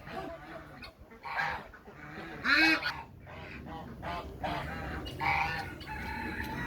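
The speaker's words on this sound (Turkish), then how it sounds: "Kızımla biz tavuklarımızı da tanıyalım." Chickens clucking and squawking close by, with a rooster-like call rising in the middle, a busy farmyard chorus throughout.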